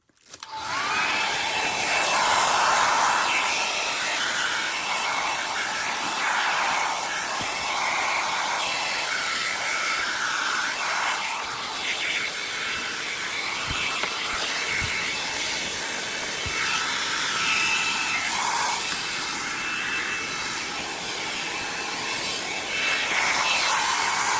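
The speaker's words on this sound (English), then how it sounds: "I'm just going to use my blow dryer because I have it handy" A hair dryer blows steadily at close range on shrink wrap, a loud continuous whooshing hiss that holds for the whole stretch with only slight wavering.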